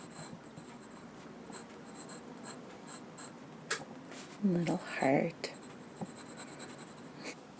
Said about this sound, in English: this is waterproof black ink, and writing "Hello World."